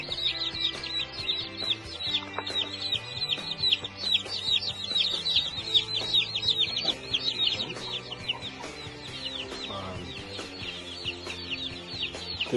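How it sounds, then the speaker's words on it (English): A flock of broiler chickens at day 10 clucks and cheeps continuously, with many overlapping high peeps and low clucks close by and no talking. "The experimental chickens."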